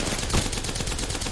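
Gunfire in an Apex Legends solo gunfight, a dense, loud burst of rapid shots packed into a short moment with no talk.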